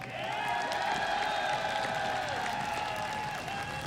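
Loud, continuous audience applause with a roaring crowd at a League of Legends esports grand final, IEM 2015 San Jose, while a steady tone rings underneath.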